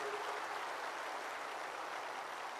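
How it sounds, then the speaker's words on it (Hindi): A large audience at the 17th Indian Cooperative Congress claps in a steady, dense wash of applause, somewhat distant and even throughout. "मैं आप सबको विनंती करना चाहता हूं कि बहुत जोर से ताली बजाकर इसका स्वागत करिए"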